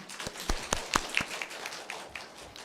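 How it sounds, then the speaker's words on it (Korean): A few members of a church congregation clap at a Sunday service, a sparse scatter of individual claps close by that tapers off after a couple of seconds. "다시 한번 우리 하나님께 영광의 박수 올립니다."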